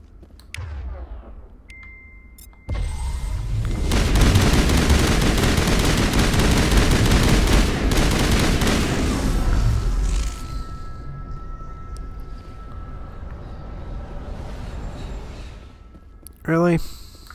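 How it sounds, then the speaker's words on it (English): Heavy bursts of gunfire in the Mass Effect Legendary Edition shooter, a loud sustained barrage of rapid shots lasting several seconds, with quieter battle noise and a brief sharp sound near the end. "Yep, sounds like snipers."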